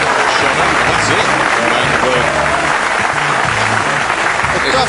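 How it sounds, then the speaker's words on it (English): A big roar of applause erupts from the crowd at a professional pool match, loud continuous clapping and cheering that stays dense and close throughout, with some crowd voices mixed in. "the big roar of applause we heard"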